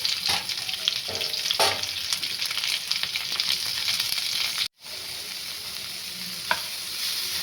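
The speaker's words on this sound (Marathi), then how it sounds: "आता पॅनमध्ये तेल गरम करायला ठेवलेलं आहे आणि त्याच्यामध्ये घालायचा आहे आपल्याला हा कांदा" Onion frying in hot oil in a pan for paneer masala, a steady loud sizzle with bright crackle throughout, a few stirring scrapes and a brief dropout near the middle.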